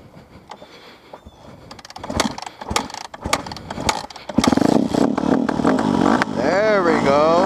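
A motorcycle kick-started with the choke set: scattered clunks and thumps of kicking build into a loud, close engine that catches and runs steadily toward the end, with a rising revving whine in the last seconds.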